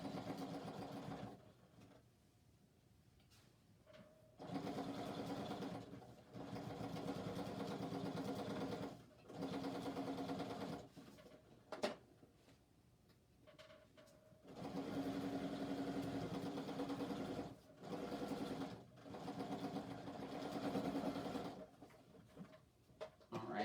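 A sewing machine stitches a bag seam at a 3/8-inch allowance with back stitching, running in several separate bursts of a few seconds each, with short pauses between them. The sound is close and fairly quiet, and no one speaks.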